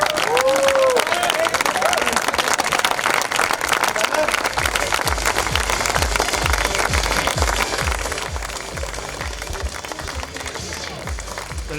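Sustained applause from a crowd at a squash tournament final, dense and loud clapping that carries on throughout, fading slightly toward the end.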